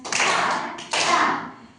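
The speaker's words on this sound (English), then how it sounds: "clap your hands" A burst of clapping, then a short pause and a second round of clapping, close and fairly loud with no talking.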